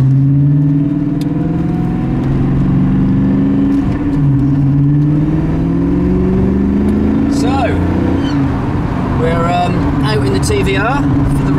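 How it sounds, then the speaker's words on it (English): A TVR sports car engine hums steadily on the road during a road test, its pitch rising and falling with the throttle, loud and close, with voices briefly joining near the end. "engine's doing exactly what it should be, throttle response throughout the entire rev range"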